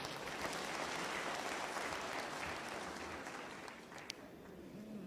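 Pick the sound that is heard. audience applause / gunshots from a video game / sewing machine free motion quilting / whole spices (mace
audience applause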